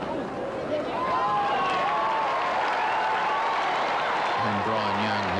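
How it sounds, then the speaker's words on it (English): A cricket crowd at a Test match in Christchurch applauding a departing batsman, steady sustained clapping and cheering from a large distant crowd, with a commentator beginning to speak at the end. "And certainly the crowd there acknowledging Andrew Jones."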